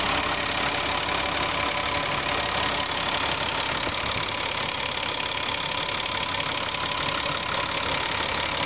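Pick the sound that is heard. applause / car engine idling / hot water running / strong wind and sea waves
car engine idling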